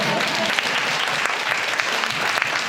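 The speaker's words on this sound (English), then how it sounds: "a round of applause for you." A round of applause from a church congregation during a sermon, steady and fairly loud clapping from many hands sustained throughout.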